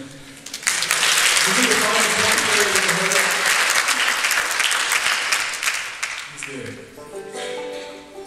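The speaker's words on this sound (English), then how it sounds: "Can we get another round of applause for Wayne?" Audience at a live church praise band concert breaks into a long, loud burst of applause lasting several seconds, close and full, then tapers off as a voice begins speaking.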